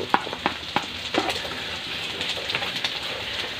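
Sliced carrots and beans hit hot oil in a pan and fry with a close, steady sizzle, punctuated by a few quick clatters and scrapes as the vegetables are added and moved.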